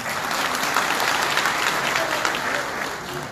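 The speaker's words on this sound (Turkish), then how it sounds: "alkış az geliyor arkadan" Audience applause at a meeting of neighborhood heads and apartment staff with a political party leader in a Hatay hotel, dense, even clapping from a sizable crowd sustained for a few seconds.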